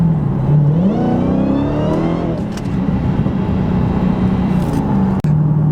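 A Hellcat with a bigger supercharger pulley accelerates hard in very cold weather. The engine note climbs in a loud, near, continuous pull with supercharger whine and one brief shift dip near the end.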